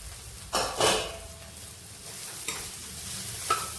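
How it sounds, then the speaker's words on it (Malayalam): Ragi semiya, finger millet vermicelli in a greased pan, is stirred with a few louder scraping strokes near the start and soft clicks later against a faint low sizzle. "ഇതേപോലെ നല്ലപോലെ ഇളക്കി കൊടുക്കണം"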